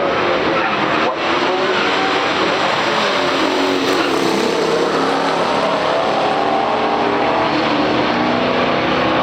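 A 1972 Pontiac Firebird Trans Am and a 1970 AMC AMX drag race side by side at a stock drag race, engines roaring loud and continuous with a brief dip near the start.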